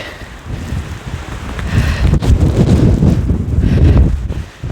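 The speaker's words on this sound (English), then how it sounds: "like it's the blowing so snow. It's because of the wind." Freezing wind gusting and blowing snow outdoors in Calgary at about -20 °C, a steady rushing roar that buffets the microphone, swelling louder midway and holding before a brief drop near the end.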